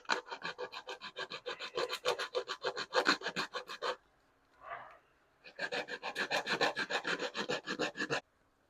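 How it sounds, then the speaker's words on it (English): A JL Audio W7 subwoofer cone is scratched by hand to roughen its centre for glue, heard as rapid, rhythmic raspy rubbing strokes in two bursts with a short pause between them. "So we're basically just kind of like just scratching it, the middle part."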